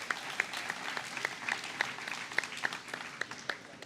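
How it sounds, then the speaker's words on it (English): Small audience at an aviation pilot-recognition event claps for newly certificated private pilots, a sparse, thin round of distinct individual hand claps at moderate distance. "one more round of applause for our private certificated pilots"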